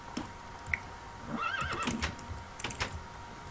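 A horse neighs and whinnies in a modded survival video game, with short high whinny calls and soft clopping, fairly faint and intermittent over a quiet background.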